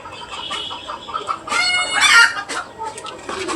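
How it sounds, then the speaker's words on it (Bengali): Chickens cluck and call outdoors after morning rain, a short burst of bright, rapid fowl vocalizations peaking mid-clip over quiet, damp ambience. "কার যেন মুরগি ডাকতেছে"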